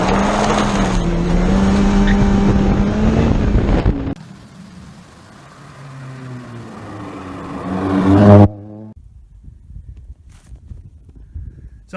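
A Suzuki Ignis Sport engine revs up through a full custom-made exhaust with a throaty note, rising to a loud peak before cutting off, with wind noise and some voices around it.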